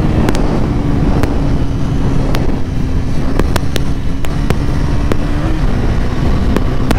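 A Bajaj Pulsar NS 400Z motorcycle riding on a road, heard as loud, steady wind-buffeted rushing over a low engine drone, with repeated brief clicks, and no talk.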